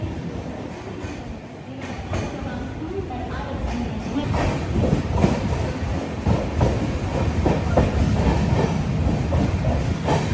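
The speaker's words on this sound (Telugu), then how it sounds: "ఈ స్టేషన్ స్లో స్కిప్ చేసింది బండి." A Netravati Express sleeper train running from LTT to Tiruvananthapuram rolls past a station without stopping, with a loud, steady rumble and rhythmic wheel clatter that builds slightly, while muffled voices sound in the background.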